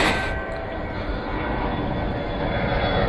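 Airplanes flying near an airport in China, a loud continuous engine roar that stays steady and close throughout, with no talk.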